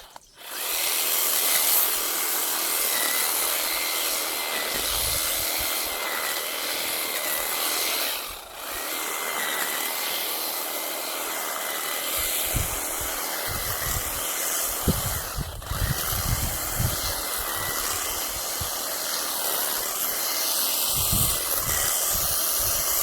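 A farm machine chops cattle fodder, a steady loud mechanical whir and hiss running throughout with irregular chopping thuds in the lower range, no talk.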